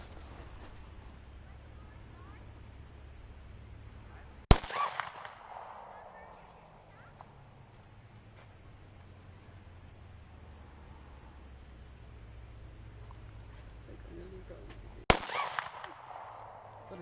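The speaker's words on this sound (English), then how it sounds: "Let her shoot your gun a couple times" Two sharp Glock pistol shots, from a Glock 43 and a Glock 19, crack outdoors about ten seconds apart, each a loud sudden bang with a short echoing tail over a low ambient hum.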